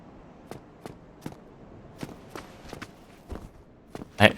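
Footsteps in the video game Dark Souls, a run of separate thuds at an uneven walking pace over a quiet background, rising to a louder, closer impact at the end.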